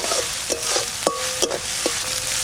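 Ginger and garlic fry in a hot pan with onions, giving a steady loud sizzle broken by a few sharp scrapes and taps of a stirring spoon, with no voices.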